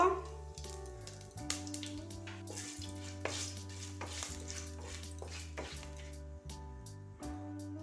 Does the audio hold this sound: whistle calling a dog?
no